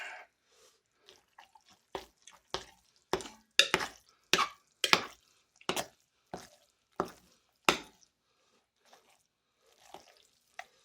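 A spoon scoops and stirs a thick, wet sloppy joe mix in a bowl, giving a series of soft, irregular slaps and squelches that cluster in the middle and thin out toward the end, close and fairly quiet.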